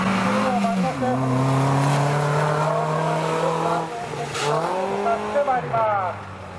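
A competition car in a junior-series gymkhana event at Koinoura in the B-FF1 front-wheel-drive class, running the course with a sustained engine note that rises and falls with gear changes and revs, steady and fairly close, while an announcer talks over it.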